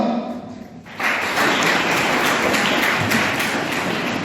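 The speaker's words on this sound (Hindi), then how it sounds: "कृपया जोरदार तालियों से स्वागत कीजिए" Loud applause at a school science exhibition prize announcement breaks out after a short quiet moment and continues steadily, a dense crowd of clapping hands close by.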